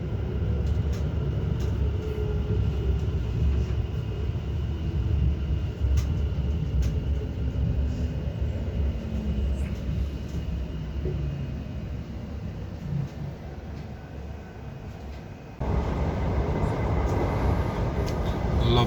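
A train pulling into Bishop's Stortford station in the historic market town, a steady low rumble and rolling hum that holds at an even level throughout, with no voices over it.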